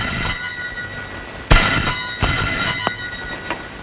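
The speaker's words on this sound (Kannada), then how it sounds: "ಅದು ನನ್ನ ಫೋನ್." A telephone rings in an office, a sharp bell tone starting abruptly and repeating in short bursts, loud and close, with no one speaking over it.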